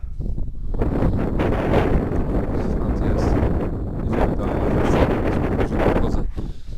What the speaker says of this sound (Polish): coraz większy wiatr się robi